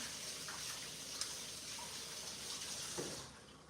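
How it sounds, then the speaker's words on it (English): Tap water runs steadily while hands are washed at a kitchen sink, a faint even hiss with small splashy shifts, close by, with no talking. "So I'm gonna wash my hands"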